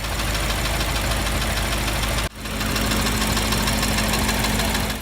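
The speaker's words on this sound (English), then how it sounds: "A failing rod bearing can produce a distinct knocking sound," Steady mid-pitched engine running with a rapid, regular knock from a failing rod bearing on a BMW F10 M5, close and loud, with a brief dropout midway before it resumes.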